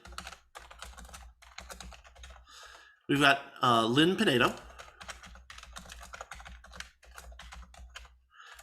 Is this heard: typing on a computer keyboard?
yes